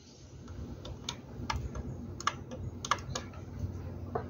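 A pen tip presses the reset button on a wifi security camera, a series of sharp small clicks with soft tapping in between, close up and free of talk.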